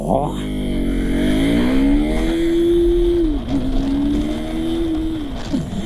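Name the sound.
KTM Duke 390 motorcycle accelerating hard from standstill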